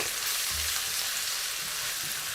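Ginger and garlic sizzle in a hot pan, a close, steady crackling fry with faint stirring and no voices.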